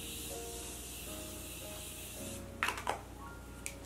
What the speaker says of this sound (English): So I'm gonna go in with this Morphe spray.